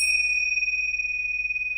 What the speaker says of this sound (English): I'm going to use my tincture bells to remove any negativity from the cards.